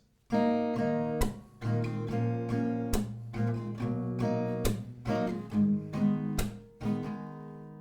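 Acoustic guitar strumming moves through several chords in a steady repeating pattern with percussive slaps, played up close with no voices.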